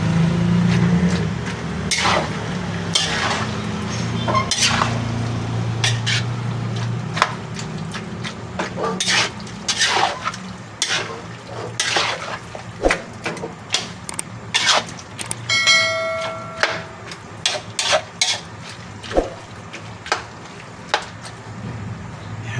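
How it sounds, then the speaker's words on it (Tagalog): Pork for Bicol Express being stirred in a large cooking pot, with repeated scraping and clanking strokes of a ladle against metal over a low steady rumble, growing choppier toward the end. "Medyo haluin po natin yung ating pork"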